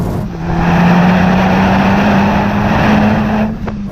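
A 2017 Honda Civic Type R engine and exhaust drone loudly at a steady pitch that creeps upward, then ease off near the end.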